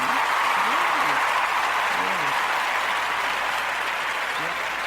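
Steady applause from an audience at a Gwinnett County government meeting in Georgia, a dense, even wash of clapping that holds throughout, with a faint voice briefly heard beneath it.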